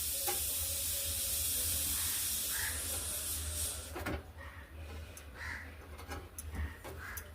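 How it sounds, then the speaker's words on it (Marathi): Phulka flatbread roasting on a wire mesh over a gas flame, giving a steady broadband hiss and gentle crackle that eases partway through, with faint scattered pops and no talking. "हा बघा असा चिमट्यामध्ये घ्यायचा आणि असा गॅसवर भाजायचा."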